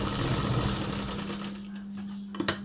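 Sewing machine stitching a tuck on a blouse, a steady close mechanical whir running continuously with a faint click near the end.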